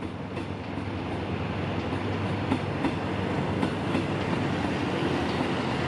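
An empty CNR passenger train rolls along tracks near Bang Sue, Bangkok, producing a steady, loud rumbling roar with faint rhythmic wheel clicks throughout.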